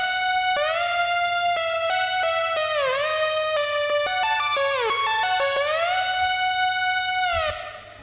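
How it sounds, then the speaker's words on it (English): A bright chip-style sawtooth synth lead plays a fast melody of short notes with swooping pitch bends, washed in reverb and chorus, loud and alone over a faint low pulse, cutting off at the end. "The next is this simple chip sounds sawtooth."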